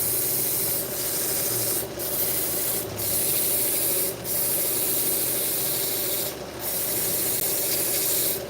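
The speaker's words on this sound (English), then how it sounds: "I'm going to lightly scuff the leather belt." A leather belt being lightly scuffed for knife-strop seasoning, giving a steady, continuous abrasive rubbing close to the microphone, with a few brief louder swipes breaking the otherwise even texture.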